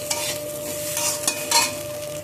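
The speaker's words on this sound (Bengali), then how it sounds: "এখন এর মধ্যে দিয়ে দিব আমি একটু হলুদ গুঁড়ো, দিয়ে ভালো করে নেড়ে চেড়ে নিলাম" Turmeric powder and slit green chillies are stirred in a frying pan, giving a steady close sizzle with several scraping strokes of a spoon and no one talking.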